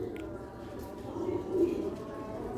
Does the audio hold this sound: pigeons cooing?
yes